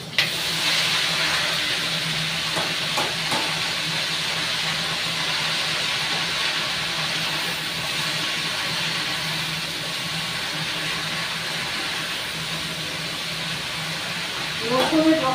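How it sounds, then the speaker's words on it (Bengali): Greens are dropped into a pan of sizzling fried garlic with green and dried red chillies, producing a steady, loud frying hiss that continues evenly with a brief clatter near the end. "এবার শাকগুলো দিয়ে দেবো।"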